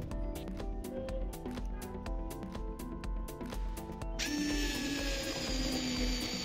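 A Total 8V cordless screwdriver (TSDLI08025) drives a half-inch screw, its motor whirring steadily with rapid ticking, then rising into a brighter, strained whine as the screw seats.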